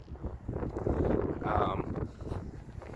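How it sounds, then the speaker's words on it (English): Gusty wind buffets the microphone in rough, rising and falling bursts, with a voice speaking briefly underneath. "It's windy."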